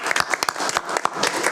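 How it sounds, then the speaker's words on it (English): A small group applauding at a board meeting: irregular, sparse claps that are fairly close and moderately loud across the moment, with a little murmur mixed in. "Let's give Larry a round of applause."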